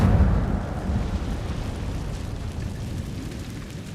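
An Incendio fire spell in Hogwarts Legacy bursts with a deep, loud whoosh at the start, then a rumbling fiery roar that slowly fades over a few seconds, with no voices.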